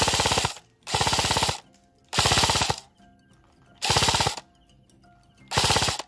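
An HK416D E&C 102S Gen3 airsoft rifle fires on full auto in five loud, close bursts of rapid mechanical shots, each lasting well under a second and separated by short pauses.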